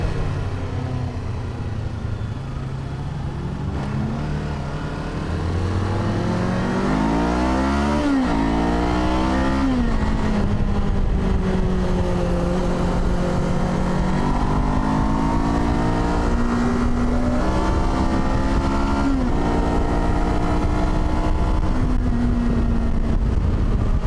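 A lightweight adventure motorcycle powered by a Ninja 500 engine accelerates through several gears, its engine note climbing and dropping with each upshift, loud and close with wind noise throughout.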